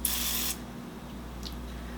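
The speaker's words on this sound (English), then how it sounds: "if you use a little nonstick oil and spray" A single short hiss of aerosol spray, about half a second long, then a quiet mechanical hum with a faint click.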